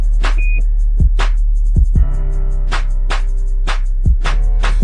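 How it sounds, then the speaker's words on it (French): A brief steady electronic voicemail beep sounds once near the start, followed by rhythmic music with repeated sharp beats and sustained tones. "Veuillez me laisser un message après le bip."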